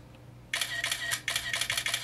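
A quick series of crisp iPad 2 camera shutter clicks, about eight in a row, rattling off in a fast burst in a quiet room.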